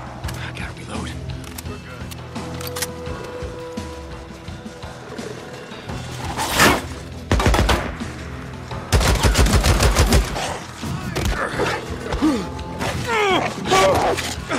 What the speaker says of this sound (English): Somebody shoots back.